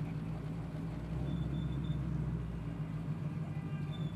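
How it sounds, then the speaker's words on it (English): A 1968 Chevrolet Camaro engine idles steadily with a low, throaty exhaust rumble, constant and smooth throughout, with no voices. "the exhaust has a nice throaty sound, nice smooth idle"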